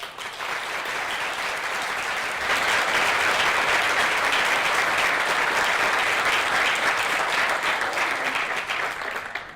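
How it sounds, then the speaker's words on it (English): An audience at a community college aviation center groundbreaking ceremony gives board members a loud, sustained round of applause, dense and even, growing slightly fuller midway and lasting nearly ten seconds before tapering off. "If Lisa and our GTCC board members could stand and be recognized with a round of applause."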